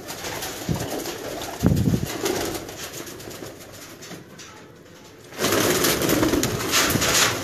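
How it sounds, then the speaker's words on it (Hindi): Ferozpuri pigeons coo in low, soft bursts near the listener, with a few louder flutters and a rise in broadband rustle toward the end. "फिरोजपुरी है जी कबूतर"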